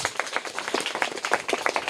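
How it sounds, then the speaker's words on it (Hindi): A group of Class 3 schoolchildren claps briskly in a classroom, a rapid, uneven patter of hands close by with no talking. "जोरदार तालियां इनके लिए"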